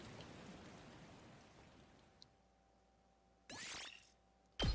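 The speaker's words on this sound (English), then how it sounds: "melted away into the sound of the rain pouring down" Steady rain hiss in a video game fills the background, fading lower midway, followed by two short louder bursts of broadband noise near the end.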